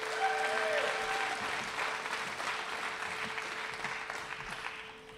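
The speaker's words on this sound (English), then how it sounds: "Let's give Curtis a round of applause." An audience at a spring agricultural program banquet applauds, with steady, dense clapping that holds for several seconds and slowly fades.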